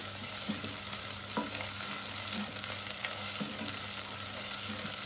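Dried mint heats in hot oil for soup, giving a soft, close sizzle with light stirring taps and scrapes at intervals, no voices.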